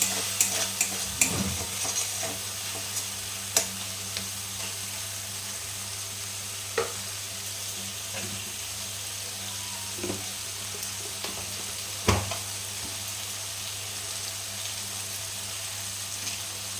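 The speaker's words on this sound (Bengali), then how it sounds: "এভাবে একটু কষতে হবে মশলাটা" Spice paste for cholar ghugni with a splash of water, being stirred and sautéed in a kadai, gives a steady low sizzle with occasional scraping clicks of the spoon, close and fairly quiet with no talking.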